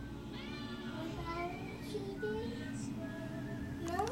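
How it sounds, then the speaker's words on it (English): A pet cat meows several times in a home during Christmas gift opening, the rising and falling cries close by over a steady indoor background. "Here's the kitty."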